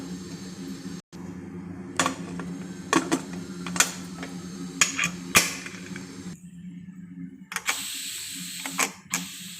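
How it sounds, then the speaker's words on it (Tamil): Pressure cooker lid closed over mutton gravy: a run of close metallic clicks, creaks and ratcheting knocks spread unevenly over several seconds, with no talk. "இதை இப்போ ஒரு 4-5 சவுண்டுக்கு குக்கர் மூடி போட்டு வச்சிடலாம்"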